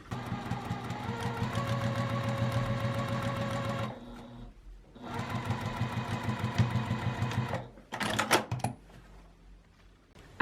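Sewing machine running a close stitch along the edge of a drawstring bag, whirring steadily in two long runs separated by a pause, then a short burst of clicks and rattles.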